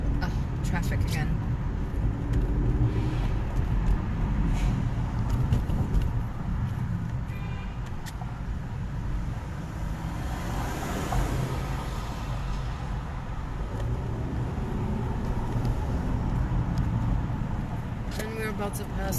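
New York road traffic heard near Manhattan's 42nd Street, a continuous wash of cars, buses and trucks at moderate level, with faint clicks and bumps over the steady roar.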